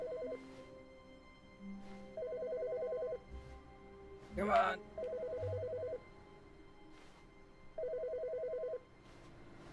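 A telephone rings in the video game The Stanley Parable: Ultra Deluxe, three bursts of rapid electronic trilling spaced a couple of seconds apart, with a brief clattering thud between them and a voice speaking briefly.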